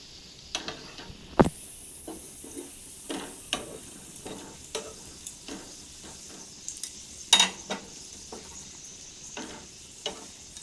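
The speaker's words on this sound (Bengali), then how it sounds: "গ্যাসের ফ্লেমটা লো ফ্লেমে রাখবেন তাহলে আস্তে আস্তে ভাজা হবে" A Mughlai paratha fries in oil in a pan over a low gas flame, a soft sizzle broken by repeated sharp spatula scrapes and clicks against the pan.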